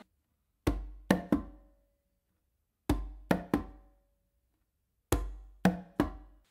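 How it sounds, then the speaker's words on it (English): Conga pattern of bass tone, close slap on the tumba and finger stroke, played in three clusters of three sharp hits, each cluster separated by silence, close and clear with no talking. "So basically, it's going to be bass, close slap, finger."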